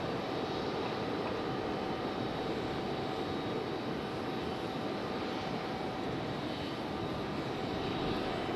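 A JetBlue Airbus A320 is pushed back from gate C10 at Raleigh-Durham International Airport, its engines giving a constant low rumble with a thin steady whine on top, heard from a distance and without talk.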